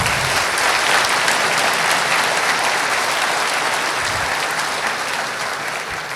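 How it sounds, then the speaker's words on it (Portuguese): An audience claps for professor Olavo in a dense, sustained round of applause that holds strong and slowly tapers over several seconds, with no voices over it. "Aplausos para o professor Olavo, por favor"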